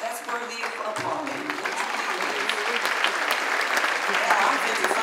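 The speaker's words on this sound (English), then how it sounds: "yes, that's worthy of applause" Sustained applause from an audience at an anniversary tribute event, dense steady clapping that holds for several seconds and builds slightly toward the end, with a voice faintly underneath.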